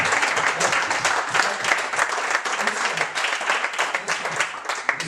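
A church congregation breaks into sustained, dense applause that fills the room steadily for several seconds, many hands clapping at once with no voices standing out.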